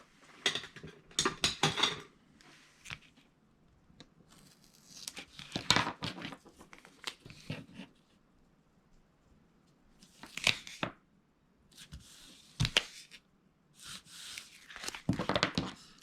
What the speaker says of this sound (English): So we're going to cover the whole thing in tape.